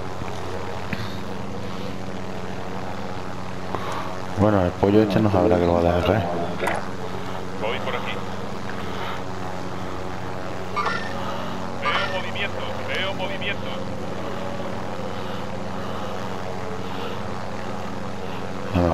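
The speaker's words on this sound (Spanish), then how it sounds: "Helicóptero de ataque enemigo en la zona." Enemy attack helicopter in Call of Duty: Modern Warfare, a steady rotor and engine drone throughout, with a louder burst of action partway and a player talking over it.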